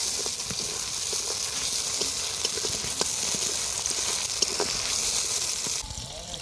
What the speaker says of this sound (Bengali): পেঁয়াজটা ভাজাও হয়ে গেল,